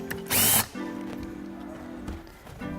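A power tool loosens the front and rear axle nuts on an Evolve electric skateboard: one loud, close burst of whirring under a second long, followed by a quieter steady hum.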